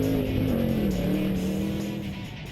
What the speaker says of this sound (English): We had the cones set up pretty close and passed through them at 45 miles an hour.